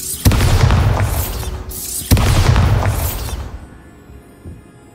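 Two loud, heavy Bombarda spell blasts from Hogwarts Legacy boom up close about two seconds apart, each a sharp impact swelling into a long rumbling roar before fading to quiet.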